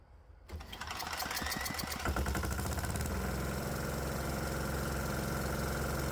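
Diesel engine running on an 80% waste oil fuel blend, starting up and settling into a steady, even mechanical idle with a fine rapid knock, close and continuous.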